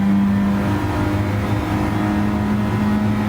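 Citroen DS3 engine at full throttle in Gran Turismo Sport, a steady, loud, sustained drone with a constant pitch lasting the whole stretch, no talk over it.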